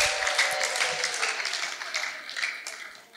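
An audience breaks into steady applause, a dense wash of many hands clapping continuously, fairly distant and slowly fading toward the end.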